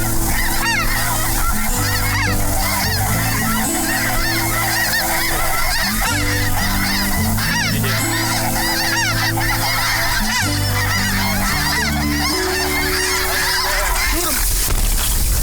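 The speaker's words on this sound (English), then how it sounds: "Birds on the right." A large flock of geese honks loudly and continuously during a waterfowl hunt, many overlapping calls close and far filling the air without pause, with faint voices underneath.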